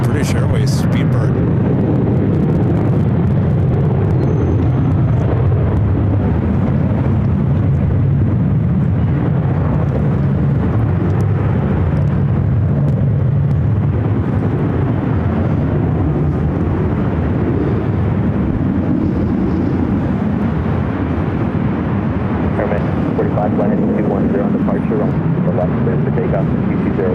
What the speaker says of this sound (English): we kind of have a lineup of flights taking off here on the 24 left